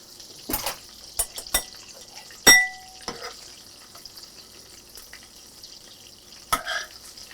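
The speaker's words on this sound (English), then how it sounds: "I'm taking the meat out of the skillet." Browned meat being lifted out of a hot skillet with grease, a quiet background sizzle under sharp scraping and clinking of a utensil against the pan, a few distinct knocks spaced apart.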